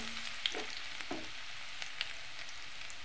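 Chopped garlic, ginger and onion stir-frying in oil in a pan, a steady close sizzle broken by a few light scrapes and taps of stirring, without any talk.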